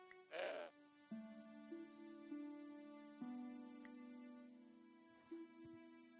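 A goat gives a short bleat near the start in the adventure game Broken Sword 5, set in Catalunya, followed by quiet, sustained game tones and a faint insect chirr in the background.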